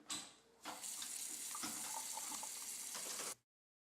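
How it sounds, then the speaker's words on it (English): A vacuum cleaner filter from a Hoover WindTunnel Pet Rewind bagless upright is rinsed under a running tap. A short burst of water is followed by a steady hissing stream that splatters unevenly and then stops abruptly. "the upper filter needs to be rinsed off in water"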